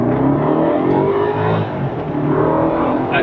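A BMW 650i pulls hard from a standstill in a 0-60 mph launch, its engine roaring loud and close with a continuous rising drone that dips slightly mid-run as it shifts, then climbs again.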